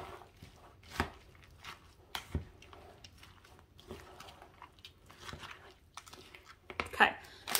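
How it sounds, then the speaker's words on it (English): Pepper jack cheese being stirred into a hashbrown casserole, giving soft irregular scraping and thumping contacts, with a few sharper knocks around the middle and end and a quiet room behind. "About 2 cups of pepper jack cheese. Mix this in here a little bit."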